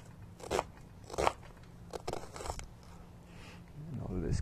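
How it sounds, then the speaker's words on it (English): Knife chopping an onion into slices and then dicing it, giving a few irregular crisp cuts spaced about a second apart on a board, close up, with brief quiet gaps between strokes. "So I'm going to just chop this up"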